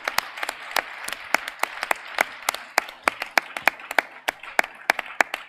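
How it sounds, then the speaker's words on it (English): An audience at a judged keynote event gives the core team a big closing round of applause: steady, fairly dense clapping with individual sharp claps standing out, close and continuous throughout. "we'll give them one big last round of applause, please"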